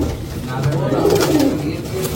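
Domestic pigeons coo in a low, throaty run close by, with a voice murmuring faintly underneath.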